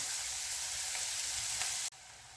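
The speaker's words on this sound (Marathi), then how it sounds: "हे कांदा बारीक चिरून घेतलाय. कांदा थोडासा लालसर होईपर्यंत भाजून घ्यायचा आहे." Finely chopped onion frying in a pan, a steady close hiss of sizzling oil that cuts off abruptly near the end before resuming more quietly, with no voices.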